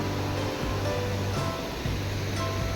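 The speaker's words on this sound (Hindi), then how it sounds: "बहुत फेमस वाटरफॉल है ये।" A waterfall at Dikrutpi in Karbi Anglong roars in a steady, dense wash of rushing water that fills the whole stretch without a break.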